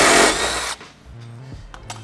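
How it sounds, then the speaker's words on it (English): A loud power drill whirs steadily for under a second while drilling into aluminium, then cuts off, leaving quieter handling noises and a low hum. "we're going to drill."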